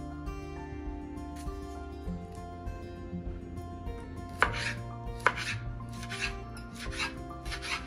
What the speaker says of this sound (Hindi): ये टमाटर है, टमाटर की कटिंग करने लगी हूँ।